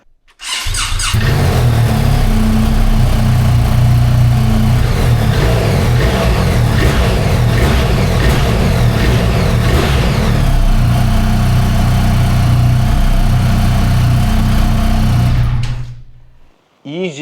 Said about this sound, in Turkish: Şimdi motoru bir çalıştıracağım. Bir sesini dinleyin bakalım.